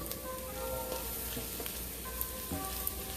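Butter for French onion soup sizzling steadily in a hot pan, a soft continuous crackle with faint pops and a low hum behind it, no talking.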